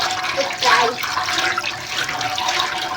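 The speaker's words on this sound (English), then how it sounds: "I'm just going to rinse my hand here" Water runs steadily from a tap over a hand being rinsed, with a continuous close splashing hiss and no talking.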